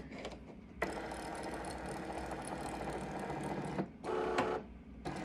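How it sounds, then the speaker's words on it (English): A Cricut Maker 3 cutting machine warms up after being switched on, with whirring motor and carriage runs in several bursts, a long steady stretch then shorter pulses, close and fairly quiet, with no talking. "your machine's just going to do a little warm up"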